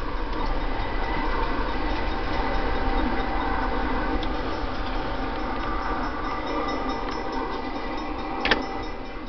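Continuous low rumbling and rolling rattle of a video-game train passing steadily nearby, with a brief click near the end.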